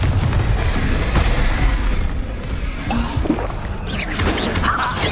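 Confringo blasting spells exploding during Hogwarts Legacy combat, heavy booming impacts and crashes in quick succession amid battle noise.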